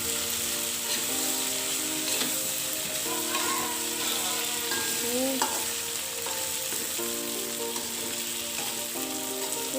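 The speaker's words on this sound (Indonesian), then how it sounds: "kemudian kita masukkan terongnya tadi, kita aduk-aduk sebentar" Eggplant frying in green chili sambal in a pan on low heat, a steady close sizzle with intermittent scraping and clinking as it is stirred, continuous throughout.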